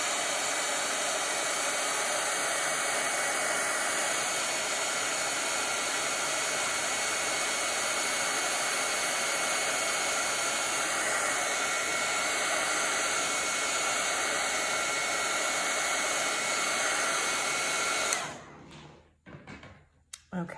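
A hair dryer blows steadily over a watercolor painting, a loud, even close whoosh running for about eighteen seconds before it switches off with a few brief clunks.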